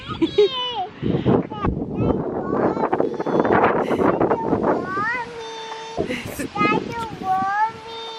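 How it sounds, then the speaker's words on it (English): Gusty wind buffets the microphone with a rough, low rumble as an adult and someone talk and call out over it outdoors. "It's extremely windy."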